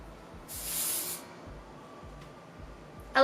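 Hairspray sprayed onto the roots of the hair in one steady hissing burst of about a second, close up, followed by quiet and a brief louder rustle at the end.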